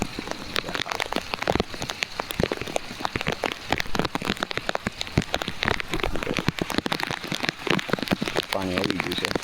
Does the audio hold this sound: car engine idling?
no